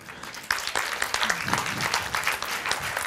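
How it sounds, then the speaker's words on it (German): Audience applause at a talk event in a Tübingen shopping arcade, a modest crowd clapping loosely and unevenly, with a voice speaking briefly over it. "einen großen Applaus, ich bin sehr begeistert"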